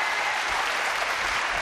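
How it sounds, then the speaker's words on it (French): French TV studio audience applauding a professor, a steady, dense, even clatter of many hands, moderately loud and continuous with no speech over it. "Applaudissements pour le professeur."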